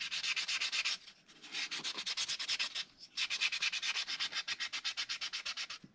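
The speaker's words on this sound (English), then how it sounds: "I just finished sanding this with 400 grit, and we smoothed out some dents" Hand sanding a carved wooden comfort bird with fine 400-grit paper, a steady close rasping rub in quick repeated back-and-forth strokes, briefly pausing twice, with no talking.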